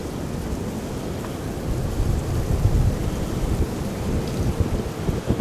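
Strong wind on a very cold, windy day buffets steadily outdoors, making a continuous deep rumbling roar that swells slightly in the middle.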